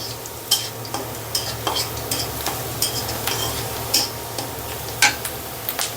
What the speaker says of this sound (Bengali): আমাদের মরিচ পেঁয়াজ ভাজাটা প্রায় শেষের দিকে।